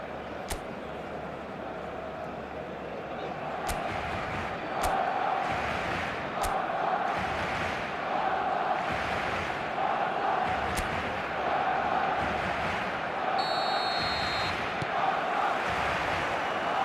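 Stadium crowd noise at a football match in the eFootball video game, a steady roaring murmur of spectators that swells slightly partway through, with a few sharp clicks over the top.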